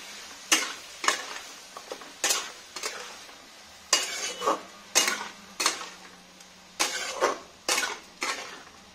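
Potatoes are sautéed with spices in a pan, heard as a string of rhythmic scraping stirs in distinct bursts with short pauses between them. The spatula is close and clear over a light sizzle.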